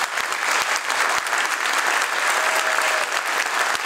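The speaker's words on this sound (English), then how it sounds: "So let's give them another round of applause." Audience applause at a community choir's Christmas concert, steady clapping from a full hall that holds evenly for the whole stretch with no voices over it.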